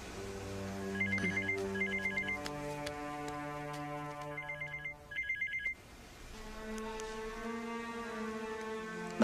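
An electronic telephone ringtone warbles in repeated double bursts, ringing several times close by over a sustained musical score.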